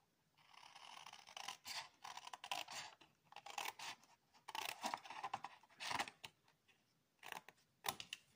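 Scissors cut paper along a drawn line for a scrapbook album, a series of quiet close snips and crisp paper rustles in irregular bursts, with no talking.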